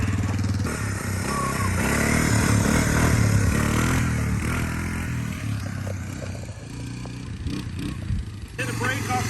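Honda ATC 250SX three-wheeler engine running steadily nearby with a rough idle drone and slight revving, while people talk over it.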